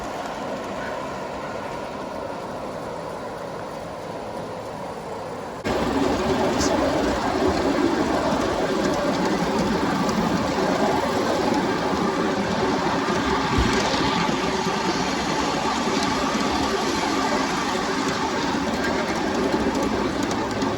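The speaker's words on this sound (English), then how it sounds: "The engine walked away with all these rail cars with no effort whatsoever." An Accucraft Sabrina model steam locomotive hauls a string of rail cars on a dual-gauge garden railway, a steady rolling rumble with faint clicking that grows louder partway through and holds continuously.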